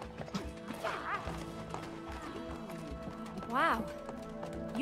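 Cartoonish horse hooves clip-clopping in the It Takes Two co-op game, a steady light trotting rhythm with occasional squeaky whinny-like tones, under ongoing character talk.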